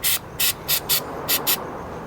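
Short hissing bursts of coating from an aerosol spray can are applied while installing underglow on a 350Z car. Six close, loud sprays of about a quarter second each come in uneven rhythm with quiet gaps between them.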